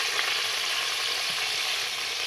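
Tomatoes going into a pan of browned onions fry with a steady, loud, dense sizzle that covers the whole stretch, broadband and unbroken, with no voices.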